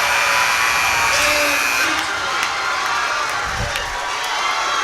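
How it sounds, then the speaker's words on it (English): A packed high school varsity basketball gym roars in loud, sustained cheering that swamps everything else, with shrill shouts and whistles cutting through the wall of crowd noise. "the crowd was so loud I couldn't hear his name"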